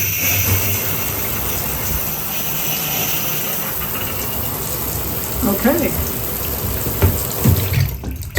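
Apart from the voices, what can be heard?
water running from a newly replaced tub spout and shower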